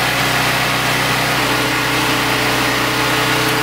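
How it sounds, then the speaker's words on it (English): A bandsaw cutting 1/2-inch steel rods, a loud, steady mechanical drone and whine that holds constant throughout, close up and without talk. "go over to the bandsaw, trim off these 1/2-inch rods to size"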